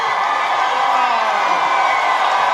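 A large crowd at a Trump rally in Rome, Georgia cheers and whoops in a loud, continuous roar that fills the space without a break.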